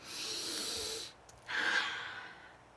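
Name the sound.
sniffing through the nose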